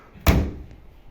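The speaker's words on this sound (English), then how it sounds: "wardrobe. Double door wardrobe." A double-door wardrobe door shuts in a bedroom with a single solid thud, followed by a short fading rattle and then near silence.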